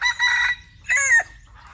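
A Thai fighting rooster flaps its wings and crows loudly nearby in two long, strained crows separated by a brief pause, with no talk over them.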